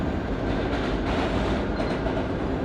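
An R32 F express subway train runs loud and close, a dense steady roar of wheels and motors with faint rhythmic clatter, continuous throughout with no pauses.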